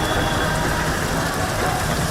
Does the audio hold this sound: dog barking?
no